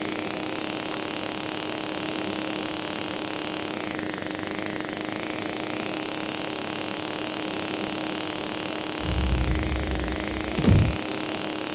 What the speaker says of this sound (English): I loved riding that go-kart.